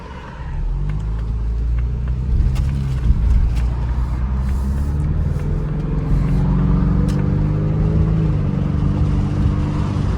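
A 2024 Ford Mustang on the road, its engine a steady low rumble under continuous road and tire noise throughout, with a slight swell in revs midway and no talking.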